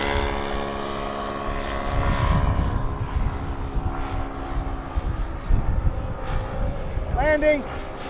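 A fixed-wing RC model airplane comes in to land at a park flying field, its small engine droning steadily with rising and falling pitch, closer toward the end, over a constant background hum.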